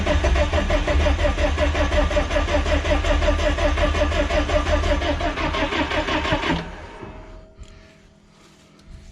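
A damaged diesel engine in a 2015 Chevy Silverado 2500 4X4 cranks loudly and steadily, the starter's rhythmic turning-over churn continuing for about six and a half seconds without catching, then cutting off into near quiet.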